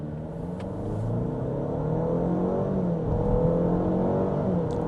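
A Cadillac XT4 SUV with a 230-horsepower engine and nine-speed automatic accelerates in sport mode. Its engine note climbs in a steady, rising drone heard from inside the cabin, with no talking.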